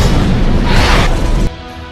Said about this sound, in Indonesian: gelang Macaulay meledak.